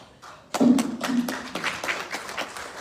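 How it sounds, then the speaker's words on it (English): Town hall audience giving a round of applause: scattered hand claps begin abruptly and continue as moderate, uneven clapping in a room. "we do have to give them a round of applause"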